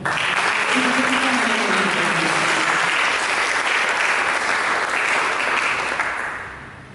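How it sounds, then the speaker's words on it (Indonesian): A church congregation applauds during an Indonesian sermon, a dense, steady wash of clapping from a large crowd filling the room, holding level before tapering off at the end. "Ayo berikan tepuk tangan dong."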